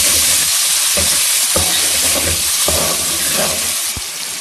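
Green chilies and tomatoes hit hot oil in a pan of browned mashed brinjal, setting off a loud, steady sizzle with a few sharp clatters of stirring on top, with no voices.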